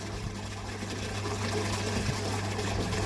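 Water runs steadily through the siphons of an aquaponics grow bed, a soft continuous trickle with a low hum underneath, fairly quiet and without talk.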